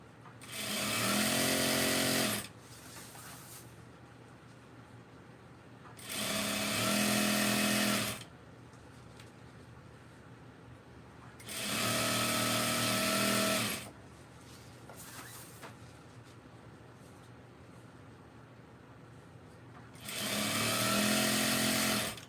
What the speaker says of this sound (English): I'm just sewing the anklet